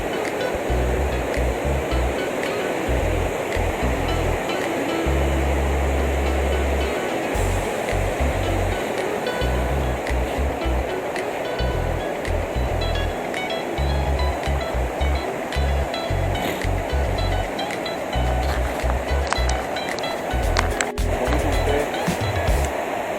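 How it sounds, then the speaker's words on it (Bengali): The river at Jogighat near Mungpoo in Kalimpong rushes past in a continuous, loud broadband roar, with intermittent low rumbling thumps from wind or handling and no talking. "এই জল যাচ্ছে, নদীর জল"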